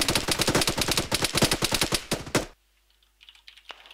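Rapid automatic gunfire from the Arma 3 video game, a dense burst of closely spaced shots lasting over two seconds, loud and close, then cutting off to near silence with faint distant noises.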